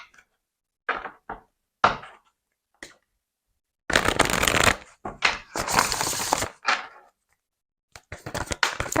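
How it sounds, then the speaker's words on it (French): Tarot cards shuffled by hand to draw one extra card, giving a series of dry riffling and slapping bursts, brief scattered taps at first, then a longer dense run of card noise, close and alone. "on va prendre une carte supplémentaire avec le voyageur sacré"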